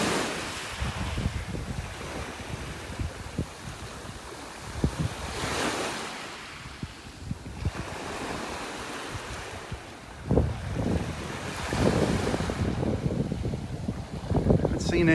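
Strong wind buffets the microphone on a beach in North Naples, Florida, with surf rolling in under the gusts and a voice speaking intermittently.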